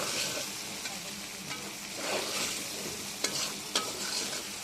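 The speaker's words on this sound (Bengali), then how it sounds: "এর মধ্যে পেঁয়াজ রসুন অ্যাড করেছি আমি এখন নাড়তে থাকবো আস্তে আস্তে" Onion and garlic frying in a pan are stirred slowly, producing a close crackling sizzle broken by a few sharp spatula scrapes and knocks.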